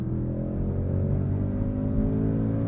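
A 2022 Audi S8 L engine pulls hard in a steady, loud drone heard from the cabin, its pitch climbing smoothly as the transmission snaps through quick upshifts, with no talking.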